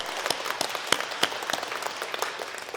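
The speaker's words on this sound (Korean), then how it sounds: "우리 방송실 박수 한번 쳐주시기 바랍니다." A church congregation applauds during a Sunday worship service, a steady round of many hands clapping with sharp individual claps standing out, no talking.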